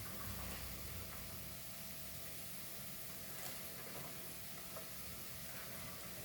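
Shredded cabbage stir-frying in a pan for a traditional Goan foogath, a faint, steady sizzle with occasional soft stirring scrapes, continuous and alone throughout.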